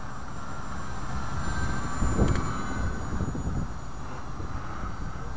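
Junior 1100 model airplane flying overhead, a faint electric whine and breezy rush that swells briefly as it passes closer, then recedes, with no talking.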